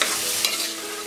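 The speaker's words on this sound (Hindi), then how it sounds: "मटर को हमने 2 मिनट फ्राई कर लिया है" Green peas frying in a pan while being stirred, a loud, close, continuous sizzle with scraping stir movements.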